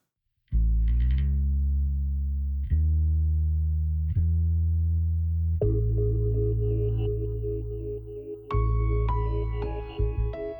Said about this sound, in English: Interesting sound design with the bass